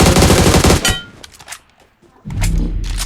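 Bursts of rapid gunfire from a battle royale video game, loud and close, then a quiet gap before another burst starts.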